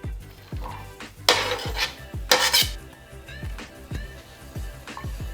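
Onions and okara cook in a pan with sesame oil as a utensil scrapes and knocks repeatedly in a quick rhythm, with two short bursts of sizzle over faint frying.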